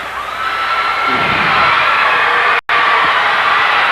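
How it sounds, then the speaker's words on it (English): A large crowd at a 1995 high school wrestling match roars and cheers continuously, a loud dense wall of voices that swells slightly and briefly cuts out. "You hear the crowd."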